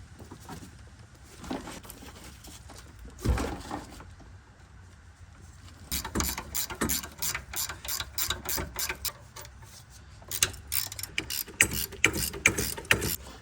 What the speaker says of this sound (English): I use an 18mm socket and a breaker bar to try to get those loose.